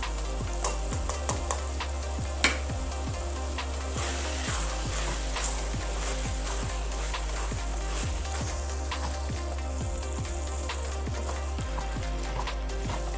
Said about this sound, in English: fry until the raw smell of tomato and chili sauce goes out